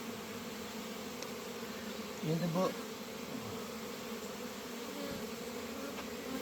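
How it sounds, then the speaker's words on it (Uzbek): Honey bees swarm around beehive frames lifted from the hive, a close, constant buzzing drone that fills the whole stretch, with a short spoken phrase partway through. "Arilar ko'p ichida."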